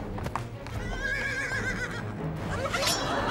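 A horse neighs loudly with a rising, quavering whinny, followed by clip-clopping hooves close by, with no talk over it.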